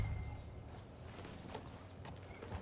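Horse hooves clip-clop at a steady walking pace while riding in the video game Red Dead Redemption 2, fairly quiet and even, with no talk.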